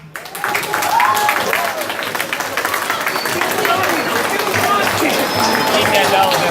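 An audience at a house meeting breaks into sustained clapping and applause, dense and loud throughout, with cheering and crowd noise mixed in.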